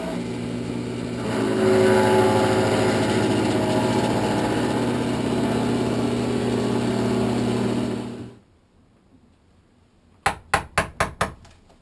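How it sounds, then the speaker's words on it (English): A drill with a Forstner bit bores out a wooden hammer handle, a steady loud motor whine running about eight seconds before cutting off, followed by five sharp hammer taps in quick succession. "I'm using a Forstner bit to do this with"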